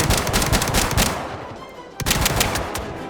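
Automatic rifle fire with iron sights in Star Citizen at a crash site: loud, close, rapid bursts of repeated shots, a short lull, then another burst of rapid fire.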